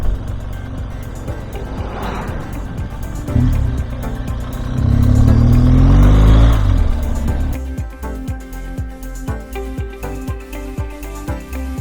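Traffic passing on a busy dusty outback road, vehicles rumbling by close with a loud whooshing pass, followed by a steady rhythmic ticking engine idle.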